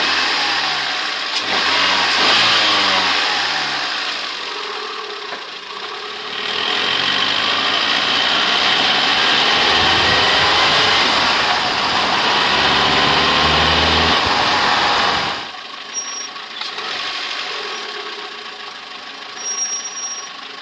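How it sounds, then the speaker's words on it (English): A car engine starts, idles and revs repeatedly, its note rising and falling through several loud surges before dropping back to a quieter idle, recorded close up. "I also tried recording some engine noises with the GoPro knockoff"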